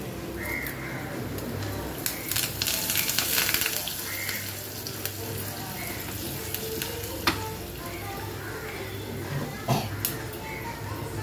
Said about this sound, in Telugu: ఆనియన్ ఫ్రై అయిపోయింది పోపులో